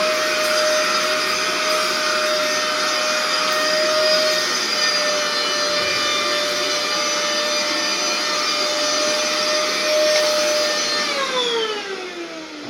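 Vacuum cleaner running over a mattress sprinkled with baking soda, a loud steady whining drone that holds for several seconds, then its pitch falls as the motor winds down at the end.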